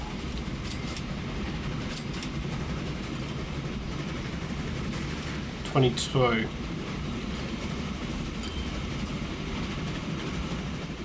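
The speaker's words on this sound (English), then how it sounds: "So this train, as it comes past the depot, we're going to get it to just drop back into the depot." A train from the Transport Fever game rolls steadily past a depot with a low continuous rumble and clatter, a brief louder mechanical burst near the middle, while someone talks over it.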